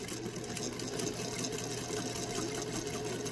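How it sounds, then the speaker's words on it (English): A home sewing machine runs steadily while stitching fabric for a hanging towel, giving a continuous, even mechanical whir at moderate volume, close by and with no one talking. "So I'm going to start my sewing."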